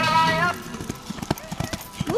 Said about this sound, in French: Le retour au galop.